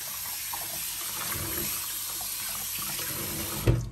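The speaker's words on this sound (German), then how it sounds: "Ich spüle den jetzt nochmal ab." Tap water runs steadily into a sink as a Römertopf clay pot is rinsed beneath it, a close, even splashing rush that ends with a short knock of the pot.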